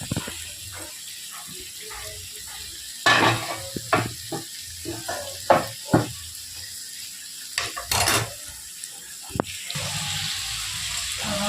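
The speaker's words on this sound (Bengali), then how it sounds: "দেখে একটু নাড়াচাড়া করে নিই" Pieces of chicken fry in a pan as they are stirred, with a steady background sizzle broken by repeated utensil scrapes and knocks against the pan, some louder clatter near the middle and more bubbling near the end.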